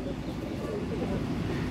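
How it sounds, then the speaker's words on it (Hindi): A Teddy pigeon of an imported line, a ringed bird offered for sale, gives a soft, low repeated coo close by, set against steady background noise. "ये असल कबूतर है टैडी।"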